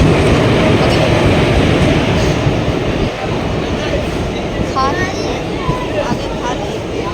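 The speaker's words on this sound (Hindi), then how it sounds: "आ गई ट्रेन।" A train pulls into a railway platform with a loud steady rumble and rolling wheel noise, brief squeals near the end, and people talking over it.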